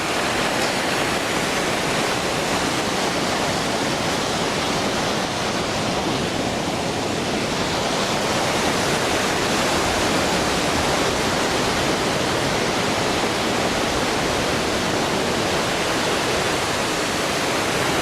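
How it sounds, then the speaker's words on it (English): Water rushes steadily into a canal lock chamber, a loud, continuous broadband roar like a waterfall that stays constant without pause from start to finish. "we need to fill this lock with water"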